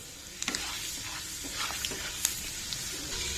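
Tempering seeds and crushed garlic fry in hot oil with a soft continuous sizzle, broken by a few sharp pops and spatters and light stirring scrapes, quiet and close.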